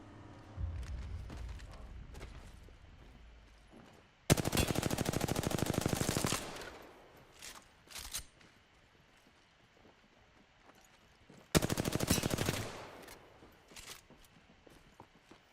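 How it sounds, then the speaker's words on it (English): Automatic gunfire in the video game Apex Legends, two loud sustained bursts of rapid shots about seven seconds apart, the first lasting around two seconds, with quieter game sounds in between. "I'm taking fire."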